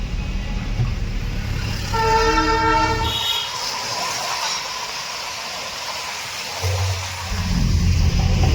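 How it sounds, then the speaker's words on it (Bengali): The Darjeeling hill train sounds a long, loud multi-tone horn over the rumble of its running wagons, then rolls on quieter before the engine noise swells again nearby. "ট্রেন এখন বাতাসিয়া লুপের দিকে চলে যাচ্ছে"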